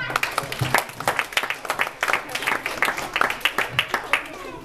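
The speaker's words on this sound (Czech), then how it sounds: "Tak ještě jednou potlesk pro Martina." A small audience claps for a performer at a live show, with fast, steady clapping from a modest crowd that carries on for several seconds with voices mixed in.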